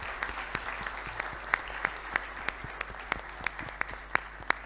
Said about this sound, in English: So please give them a big hand of applause before we start the questions.